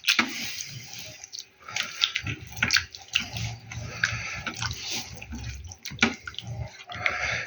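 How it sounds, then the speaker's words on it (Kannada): Milk poured over sajjaka, a homemade millet dish, in a liquid splashing and trickling stream with uneven drips and gurgles that runs steadily close by throughout. "ಅದು ಇಷ್ಟು ಹಾಲು ಹಾಕೋಬೇಕು ನೋಡ್ರಿ"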